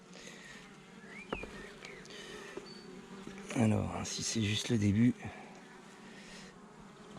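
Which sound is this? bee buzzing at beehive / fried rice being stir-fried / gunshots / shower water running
bee buzzing at beehive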